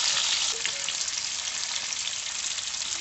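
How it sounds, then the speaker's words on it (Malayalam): Fish frying in hot oil gives a loud, continuous close-up sizzle that holds steady throughout with no voices. "എണ്ണ നന്നായിട്ട് ചൂടായിട്ടുണ്ട് ഇനി ഇട്ട് കൊടുക്കാം"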